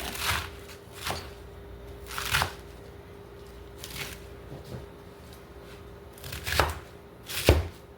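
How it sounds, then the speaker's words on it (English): Rough chopping with a knife on a cutting board while making a giant crunch wrap, giving six or seven sharp, uneven knocks spaced across a quiet kitchen background, the last two the loudest. "I'm just chopping it roughly"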